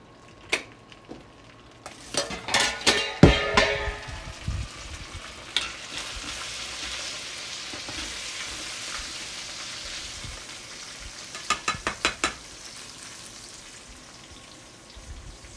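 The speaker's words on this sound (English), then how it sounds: "Sorry about the noise. I had apples on the stove." Apples burning in a pan on a stove give a continuous crackling sizzle with scattered sharp pops and a few stirring clatters, close and fairly quiet, with no talk.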